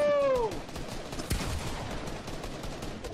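Fortnite video game gunfire, a short burst of shots near the start with one sharp crack mid-clip, loud and close over game noise.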